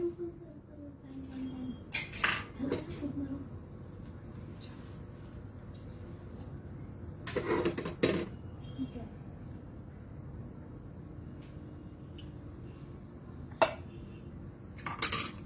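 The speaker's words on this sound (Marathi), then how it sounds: "ऑइल घालूया आपण पॅन मध्ये।" Metal utensils clink and a pan rattles while oil goes into it in a home kitchen, with a few bright clatters in short clusters under someone speaking Marathi.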